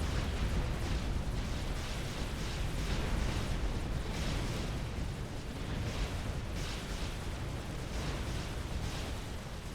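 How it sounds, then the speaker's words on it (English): Steady, dense rumble of mortar shells bursting in the strategy game Supreme Commander during a 2v2 match, continuous overlapping explosions with no clear gaps and no speech. "deal with mobile Zoes as they lob their mortars in his direction."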